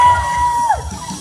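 An audience at a martial arts performance at the 2014 Grange Fair cheers and whoops loudly, a sustained crowd roar with a shrill whistle over it.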